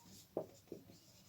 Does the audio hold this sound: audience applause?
no